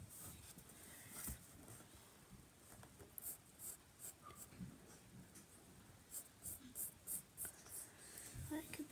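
Pencil sketching a tree on paper in a book, a soft scratchy scraping that comes in short strokes and bursts, close and fairly quiet, with occasional low murmuring speech underneath.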